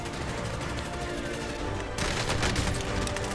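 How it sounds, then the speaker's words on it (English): Rapid gunfire from a Call of Duty Modern Warfare 2019 battle royale match, dense bursts that thicken into a louder barrage near the end, with player chatter mixed in. "I'm getting shot at."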